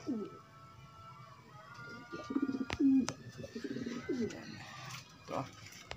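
Pigeons in a loft, adults with their young squabs, giving several soft, rolling coos in short bursts near the listener, with a few faint chirps and a brief knock against quiet room background.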